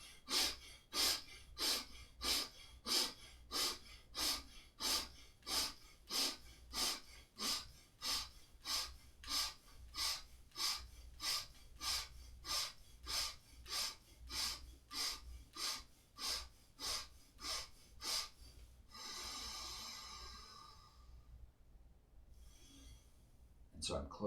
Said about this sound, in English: breathing in fast through your nose and shooting your arms up as you're breathing in and out